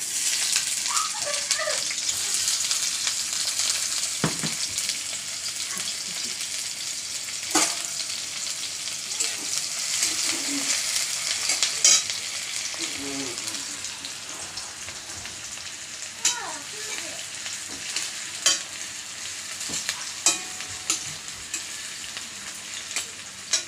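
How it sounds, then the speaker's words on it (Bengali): Chopped onion crackling in hot oil in a wok, a lively close sizzle with spattering pops and repeated sharp scrapes of stirring, no voices. "এবার দেখো পেঁয়াজ কুচি দিয়ে দিচ্ছি।"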